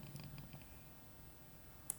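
Computer mouse clicks during a Firebase and Laravel login setup, a few light, close clicks scattered through a faint room hum, with a sharper double click at the end.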